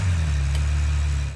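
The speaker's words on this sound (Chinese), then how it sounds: "我就先启动这个 V12 的引擎" Rolls-Royce Ghost Extended V12 twin turbo engine running after start, a smooth, subdued low hum that stays steady and quiet, heard from inside the car.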